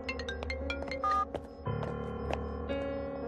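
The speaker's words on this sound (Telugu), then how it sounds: "రింగ్ వెళ్తుందయ్యా." An outgoing phone call in a Telugu film scene rings through, a quick run of bright beeping tones followed by steadier repeated ringback tones, fairly faint under a low background hum.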